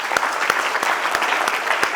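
Clapping from an audience at a school award ceremony, a brisk, dense burst of applause with regular sharper claps standing out, close and fairly loud from start to finish.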